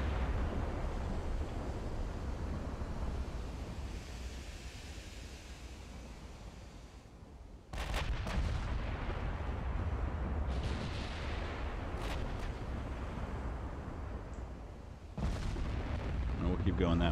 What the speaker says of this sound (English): Alright, he's firing at us now